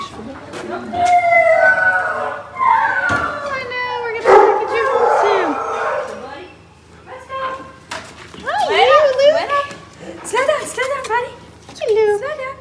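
Several dogs howl and bark in a shelter setting, with drawn-out wavering howls and short yips overlapping through the clip, fairly close, while someone talks over them.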